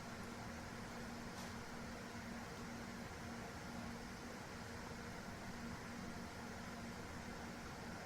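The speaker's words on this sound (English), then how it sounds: "connect with the sound of the aircon or air purifier in this room" An air conditioner or air purifier hums steadily in a quiet room, a constant broadband whoosh with a faint low tone running throughout.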